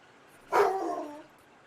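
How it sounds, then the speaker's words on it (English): A single dog barks once, a loud close yelp that tails off into a short whine over about half a second, with quiet room noise before and after. "Yeah, you heard the dog."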